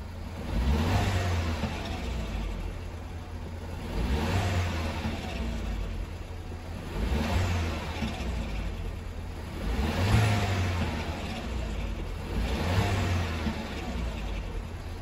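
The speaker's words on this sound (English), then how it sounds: "I'm just going to give it a rev." A car engine revs repeatedly while parked, about five loud rising-and-falling surges roughly every three seconds, with a possible chain noise as the revs drop back; no talking.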